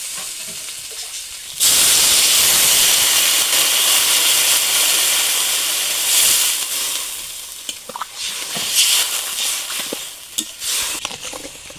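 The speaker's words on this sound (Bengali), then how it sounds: "এখন ঝোলটা দিয়ে দিই" Broth is poured into a hot pan of fried spices, potatoes and boal fish for a curry. It opens with a sudden loud hissing sizzle that holds steady and then breaks into bubbling crackles as it settles, with no voices.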